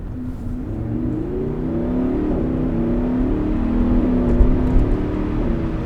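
A Lamborghini Huracan engine with about 50,000 miles, heard from inside the car in full automatic mode, gives a steady, rising drone that swells louder toward the end. It sits fairly close with no talking over it.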